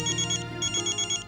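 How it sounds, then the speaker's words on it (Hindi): A mobile phone rings indoors in a TV drama scene, its electronic ringtone sounding as a quick series of bright, repeated chirping bursts that is loud and close, with no talk over it. "किसका फोन है बेटा"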